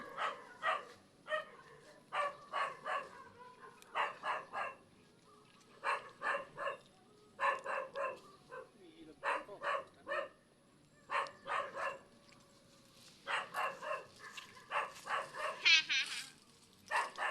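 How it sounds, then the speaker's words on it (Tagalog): A dog barks repeatedly in short, sharp bursts of two or three, sounding agitated and moderately close, with brief quiet gaps between the volleys. "ba't galit na galit yung aso?"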